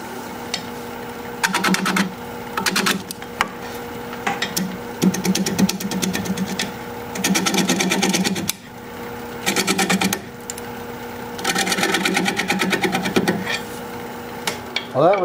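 Wood lathe turning a deteriorated wooden bowl with a cow-face design, a gouge cutting away the middle; a steady motor hum with loud, gritty bursts of cutting that start and stop in repeated passes, no talking.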